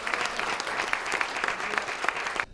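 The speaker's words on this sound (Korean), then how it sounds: "큰 박수 부탁합니다." A lecture audience applauds to welcome a film director to the stage, a steady, dense round of clapping from the crowd that cuts off abruptly at the end.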